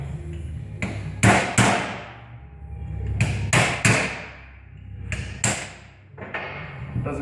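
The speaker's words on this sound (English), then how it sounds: "I use a punch or a chisel and a hammer." Hammer striking a punch or chisel to work a rear differential bearing off a Pontiac Vibe / Toyota Matrix AWD differential: sharp metallic knocks in uneven clusters of two or three, loud and close, with short ringing decays.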